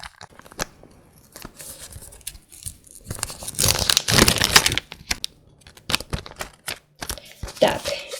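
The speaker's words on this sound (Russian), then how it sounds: "Следующий пакет я хочу открыть синий." Tearing open a blue collectible sticker pack, close crinkling and ripping of thin foil or plastic in bursts, loudest in a long tear midway, with scattered rustles and pauses.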